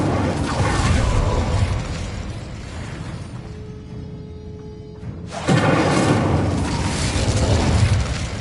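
An Incendio fire spell cast in the Hogwarts Legacy video game gives a loud, sustained roaring burst of flame that dips with a thin tonal whine midway, then surges back up for a second blast.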